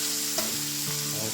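Lomi ingredients sautéed in a pan with soy sauce and seasoning nearby, a brief close sizzle with a stirring scrape and light clatter, no talking.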